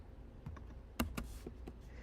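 Sparse keystrokes on a computer keyboard, a handful of soft clicks at uneven intervals with one sharper tap in the middle, close by over quiet room noise.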